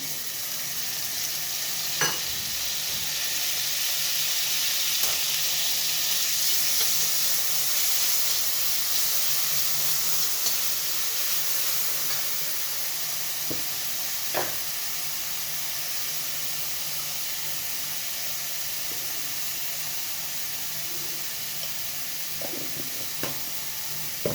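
Onions fry in a little oil for a light fish curry, giving a steady, fairly loud sizzle and hiss throughout, with a few sharp clicks and taps from the pan along the way.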